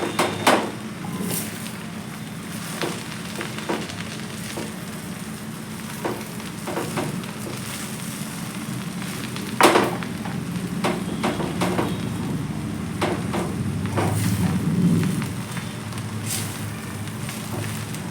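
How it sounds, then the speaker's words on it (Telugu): Amaranth leaves stir-fried in a pan give a low, steady sizzle under repeated clacks and scrapes of a spatula being stirred through them, close and continuous for a long stretch without talk. "ఇలాగా మిక్స్ చేసుకుంటూ వేపేస్తూ ఉండాలి"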